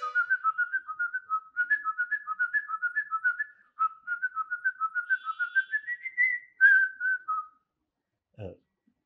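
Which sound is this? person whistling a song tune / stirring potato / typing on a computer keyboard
person whistling a song tune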